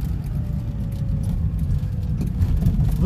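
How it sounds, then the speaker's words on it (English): A Citroen 2CV's small engine drones low and steady while accelerating in third gear, the engine note rising slightly with road noise from inside the car. "We got third gear, and our speed is climbing."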